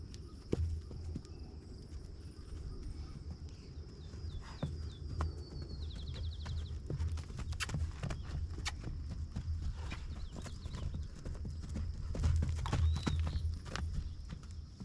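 Horse named Tequila cantering on a mount, hooves clip-clopping in a quick rhythmic beat at close range, with faint birdsong and quiet background sounds.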